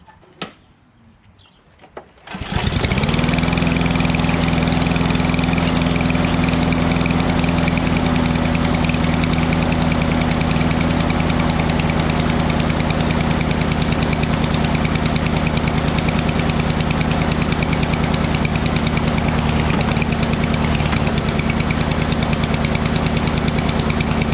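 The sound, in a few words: Craftsman LT2000 lawn tractor engine starting and running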